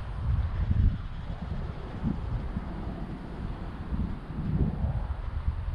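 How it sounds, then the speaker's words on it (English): Wind during a blustery day with lingering hurricane effects, beside a Polaris Scrambler 1000 ATV, rushing and buffeting against the microphone in steady low gusts that swell and fade. "It's a little bit windy."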